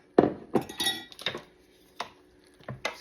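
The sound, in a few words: stirring milk into macaroni and cheese in a pot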